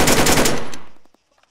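A burst of rapid automatic fire from a G36 rifle with bipod in the video game ArmA 3, loud and close, ending in a decaying echo tail lasting about a second.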